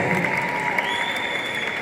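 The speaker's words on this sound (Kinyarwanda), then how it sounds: "Mukomeze muhangara amashyi menshi" An audience at a commemorative photo ceremony honouring a singer claps in a dense, steady burst of applause that fills the space without pause.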